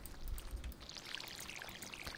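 Watering can pouring onto crops in the video game Stardew Valley, a short soft splashing trickle with patter of droplets, faint and close, no talk.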